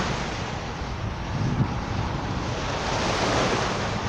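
Strong wind at a beach near Phuket airport, a continuous loud roar of gusts and surf buffeting the microphone throughout, with no voices.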